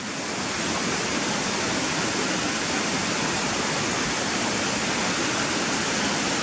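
Water rushing over stones in Gunnerside Gill, a dense, loud, constant whitewater roar heard close up, steady throughout with no speech.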